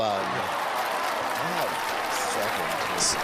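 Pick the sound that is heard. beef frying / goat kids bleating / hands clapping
hands clapping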